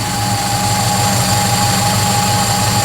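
Subaru EA81 engine running after a carburetor adjustment, warmed up and idling a little faster: a loud, steady, even drone with a constant whine, close up and unbroken, no voices.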